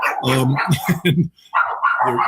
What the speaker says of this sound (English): The trucks are moving now, so the dogs are excited.